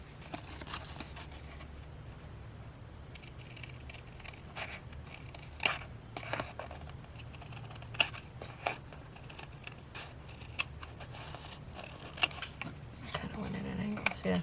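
Quiet, crisp snips of scissors cutting paper, scattered irregularly over a soft background hiss, with faint rustling in between.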